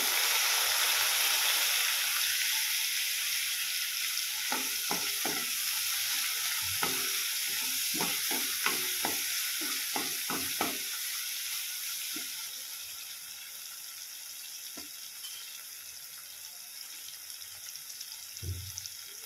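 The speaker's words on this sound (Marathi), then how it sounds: "लसूण आपल्याला छान लालसर भाजून घ्यायचा आहे" Garlic and tomato frying in a pan, a steady close sizzle with a burst of stirring knocks midway, the hiss gradually fading quieter toward the end.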